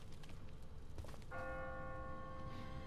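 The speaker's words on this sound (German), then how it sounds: "No one's ringing that bell. It's automatic. On a timer." An automatic, timer-driven church bell in The Walking Dead video game strikes once and then rings on with a sustained, shimmering tone over steady low background noise, heard alone without talk.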